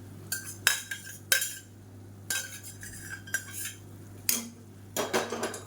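Cooked moong dal is added to drumstick leaf kootu in a pot, with about a dozen sharp metal spoon clinks and scrapes against the vessel, close and fairly quiet, in an irregular stirring rhythm.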